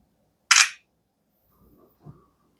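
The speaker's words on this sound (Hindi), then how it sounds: "एक पिक्चर में क्लिक कर लेता हूँ।" An Oppo A5i smartphone's front camera takes a picture with a single sharp shutter click, loud and close, followed by faint soft handling noises.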